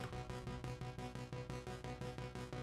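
A distorted arpeggiated 90s-style synth sounds gritty and plasticky, pulsing in quick regular steps over a thick low drone, loud and steady throughout with no voices.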